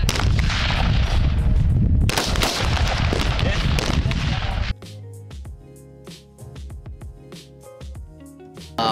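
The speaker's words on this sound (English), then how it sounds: "they get to, you know, try out the rifles that we use in recruit training, which are the M16A4 service rifles" M16A4 service rifles fired on a Marine Corps recruit training range at Parris Island, a dense roar of overlapping loud shots for several seconds, then sparser sharp cracks echoing at varying distances.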